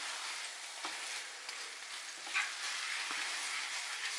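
Finely chopped chicken for croquettes stirred in a hot pan, a soft, even sizzle heard at moderate distance, with a few faint scrapes breaking through.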